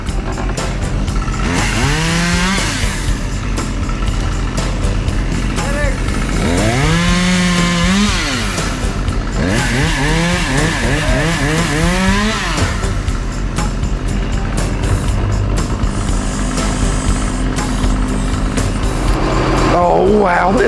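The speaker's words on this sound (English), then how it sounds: "he's got his chainsaw. And what he's doing is he's trimming some of these branches" Chainsaw used from a bucket truck to trim tree branches, revving in repeated rising and falling bursts over steady engine rumble throughout, with voices talking at points.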